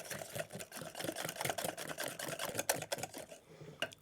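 Butter tart filling mixed with vanilla in a bowl: fast, rhythmic scraping and clicking strokes of a utensil against the bowl, close and steady for a few seconds, with no talking.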